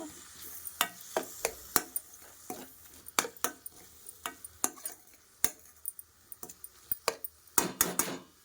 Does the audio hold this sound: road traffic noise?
no